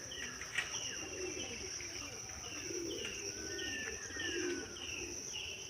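Domestic pigeons coo and call outdoors at home under an overcast sky, soft repeated calls mixed with light chirps over a steady faint background hiss, with no talking.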